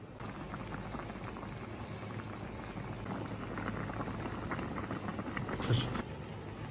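Seasoned pork intestines simmering in a pot, a soft continuous bubbling burble at low volume with a small brief clink near the end.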